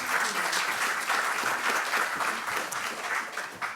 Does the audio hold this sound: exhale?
no